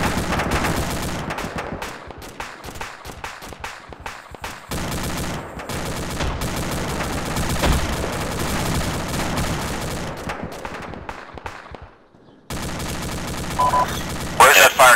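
Incoming gunfire crackles in the military game Arma 2, dense bursts of rapid shots and scattered single cracks over several seconds, briefly pausing before resuming, with voices talking amid it.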